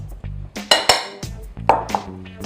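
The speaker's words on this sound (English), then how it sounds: "Just mix it all together with a fork." A fork clinks and scrapes against a bowl while mixing egg and buttermilk into a ragged dough, giving a handful of close, irregular taps and short scrapes.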